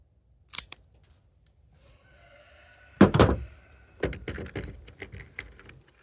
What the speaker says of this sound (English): use wire trimming tool, trim that off